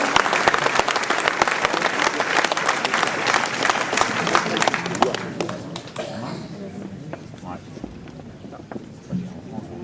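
Crowd applause at a mayor's New Year reception in Ouistreham Riva-Bella, as a medal recipient is welcomed; dense clapping fills the first half, then thins out into scattered claps and murmuring.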